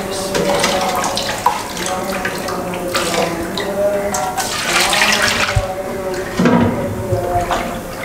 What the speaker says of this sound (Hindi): जिस ऑयल में हमने चिकन को फ्राई किया उसी में से 2 लीटर ऑयल इसमें डालने लगे हैं।